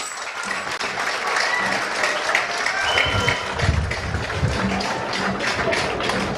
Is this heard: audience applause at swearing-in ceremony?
yes